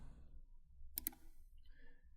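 Two quick, crisp mouse clicks close together, picked up close and quiet against a faint background hum, pressing the Adicionar button in software.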